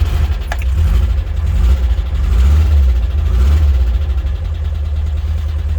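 A 1979 VW Westfalia engine runs close by, a steady low rumbling idle that holds throughout with slight swells in revs, loud and with no talk over it.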